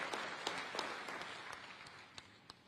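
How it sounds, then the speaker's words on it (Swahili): Audience applause for a minister at an international mining-sector investment conference in Dar es Salaam. Clapping from a large hall is moderately loud at first, then thins and fades to a few scattered claps. "Na tumpigie makofi sana Mheshimiwa Waziri kuwa hapa leo."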